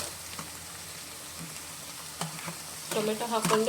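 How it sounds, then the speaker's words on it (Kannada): Tomato and onion frying in a pan for pav bhaji, a steady low sizzle with occasional stirring clatter that grows louder and busier toward the end; no voices. "ಒಂದು ಸ್ವಲ್ಪ ಹೊತ್ತು ಫ್ರೈ ಮಾಡೋಣ"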